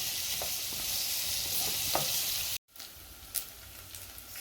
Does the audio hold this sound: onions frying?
yes